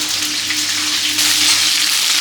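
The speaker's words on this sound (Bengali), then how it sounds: "পেঁয়াজটা ভেজে নিব হালকা করে।" Onion frying lightly in oil in a home kitchen while paneer masala is made, a steady close sizzle and crackle without pause.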